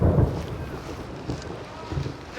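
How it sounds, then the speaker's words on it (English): Strong gusting wind over a lake whipped into whitecaps during a storm, buffeting the microphone with low rumbling bursts and a steady rushing wash, near and fairly loud, no voices. "The wind's pretty strong, white caps all over."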